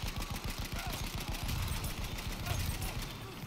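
Continuous automatic gunfire in Battlefield 1, rapid rhythmic bursts of shots hammering without pause for several seconds, loud and close.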